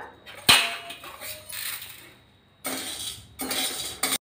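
Maize kernels and chana dal roasting together in a dry pan give bursts of scraping, rattling grain noise with clinks and a sharp knock near the start, pausing between stirs.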